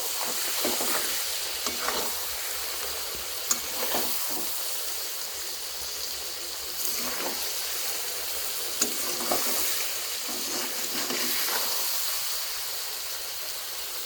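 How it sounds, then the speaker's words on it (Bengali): Spiced raw mango pickle mixture being stirred in a pan gives a faint, steady sizzle with soft scraping strokes recurring every second or two, heard alone. "এক মিনিটের মতো এভাবে নাড়াতে চাড়াতে থাকবো"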